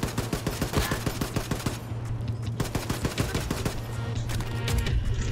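Rapid automatic gunfire from an upgraded weapon in Wolfenstein II, a fast regular stream of sharp punchy shots for about two seconds, then continued looser firing over a low droning hum.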